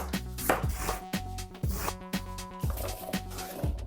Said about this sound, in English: we slice half a wombok or Chinese cabbage, cut it lengthways and then slice across